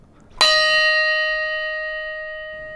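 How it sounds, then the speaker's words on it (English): A single bell struck once, a sharp metallic strike followed by a long, clear ringing tone that slowly decays, loud and close against near silence. "The bells ring again."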